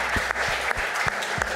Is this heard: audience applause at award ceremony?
yes